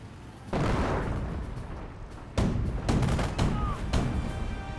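Repeated artillery-style explosions from a commando decoy barrage in Company of Heroes, a heavy boom at the start and another midway, followed by further blasts and rumbling battle noise, loud and close.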